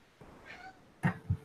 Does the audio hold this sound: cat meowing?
yes